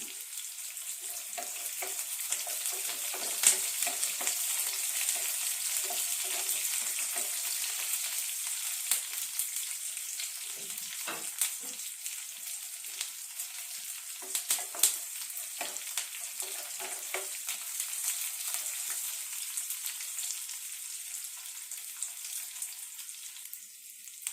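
Onions sauté for sambar in a hot pan, giving a steady crackling sizzle broken by scattered scraping and clicking stirring sounds, with no talking.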